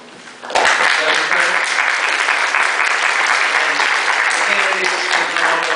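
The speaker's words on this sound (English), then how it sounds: "let's give a warm round of applause to Joel Long" Audience applause at a Clinton County Christian Coalition candidate forum greets candidate Joel Long, starting abruptly and holding as a dense, loud, sustained wash of many hands clapping.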